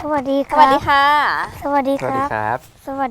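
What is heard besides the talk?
None of the usual background noises is heard.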